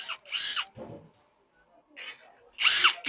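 A power drill bites into a door lock in short, close, high-pitched whining bursts, one near the start and one at the end, with a voice speaking in the quieter middle.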